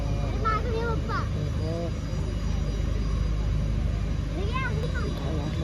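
A constant buzzing, engine-like drone from a drone show in Pune hangs in the air while a crowd chatters and voices call out excitedly.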